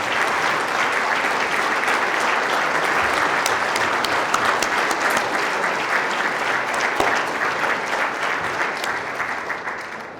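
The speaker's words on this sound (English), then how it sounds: "let's give them a round of applause" An audience at a city State of the City address in Whittier, California claps for the teachers and educators in the room, a loud, sustained round that holds for about ten seconds before tapering slightly at the end.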